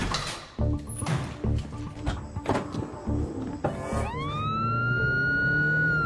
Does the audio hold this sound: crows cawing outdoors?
no